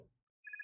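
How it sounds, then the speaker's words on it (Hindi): A telephone ringtone sounds after a brief low rumble and a pause: a steady, clean electronic ring that starts abruptly and holds through to the end, fairly faint overall, with no talking. "उसने अपनी बेस्ट फ्रेंड श्वेता को फोन किया"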